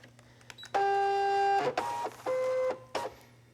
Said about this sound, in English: So put it into the scanning mat, put it down, and then we're going to insert it into the machine.